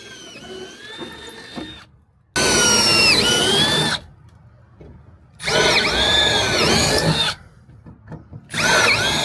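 A power drill whirs in three loud bursts separated by short pauses, its motor pitch dipping as it bites through an aluminum van panel, close by.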